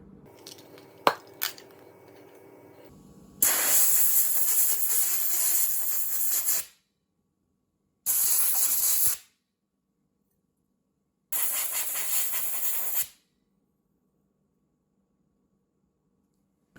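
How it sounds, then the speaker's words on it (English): Compressed air blasting out the bearings of an Abu Garcia 6500 CS Pro Rocket fishing reel during maintenance comes as three loud, close hissing bursts of a few seconds each, separated by silence, after some quiet handling clicks. "I'm going to blow them out with some compressed air"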